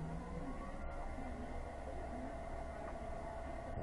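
A TV16 lathe's electric motor hums steadily as its speed is raised, a faint continuous whine with a low rumbling undertone and no talk.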